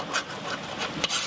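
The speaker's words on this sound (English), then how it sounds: "We're going to take our spoon and deglaze the bottom because we want to get all those flavors off the bottom of the pan." A spoon scrapes the bottom of a pan while deglazing for French onion soup, a short rough rasping rub heard close up with no talk.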